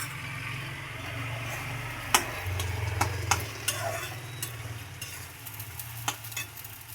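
A spoon stirs okra curry with garam masala and coriander-cumin powder in a pan, with repeated sharp scrapes and clinks over a soft steady sizzle and low hum.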